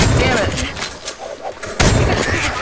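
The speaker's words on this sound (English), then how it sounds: "I'm just wasting bullets up" Gunfire in the zombie survival video game 7 Days to Die, dense bursts of shots and booms running throughout, loud and close, with a sharp new burst near the end and voices talking underneath.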